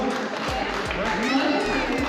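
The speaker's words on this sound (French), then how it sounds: "Allez, on peut les applaudir" Spectators at a hypnosis show at a motocross event applaud, a dense, continuous patter of clapping mixed with crowd noise and voices, close and fairly loud throughout.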